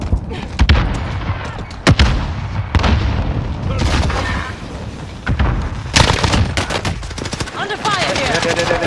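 In a video game, a frag grenade explodes among bursts of rapid gunfire, with loud sharp booms and rattling volleys close by, while players talk over the action.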